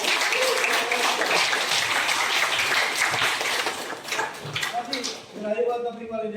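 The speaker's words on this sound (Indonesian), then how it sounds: "Tepuk tangan untuk kelas 12." A grade 12 class claps together in a classroom, a loud burst of mixed clapping that thins out toward the end as a few voices speak over it.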